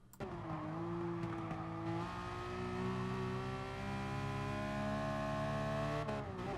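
A race car engine in Gran Turismo Sport on the Nürburgring Nordschleife holds a loud, steady high-revving drone, briefly dropping in pitch under braking before climbing again under full throttle.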